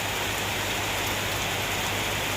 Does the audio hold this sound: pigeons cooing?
no